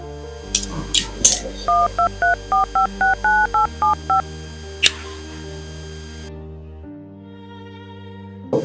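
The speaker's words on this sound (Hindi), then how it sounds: "रुकिए, मैं अभी आवी को फोन लगाती हूँ।" A landline telephone number is dialed at home: a run of about ten crisp, evenly spaced keypad tones, close and clear over a low hum, with brief handling noises before and after.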